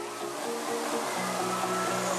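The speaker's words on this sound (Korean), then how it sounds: "수문을 열고 닫는 것은 유압식으로 되어 있어 닫힌 문이 열리면서 물을 배출한다고 하네요" At a water park wave pool, a hydraulic gate opens and releases water in a steady, rushing roar that stays fairly constant and moderately loud throughout.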